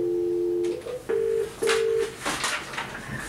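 A telephone dials out to place a call in a hospital setting: a long steady tone, then a few short beeping tones in sequence, followed by softer ringing-back sounds, loud and close with no talking.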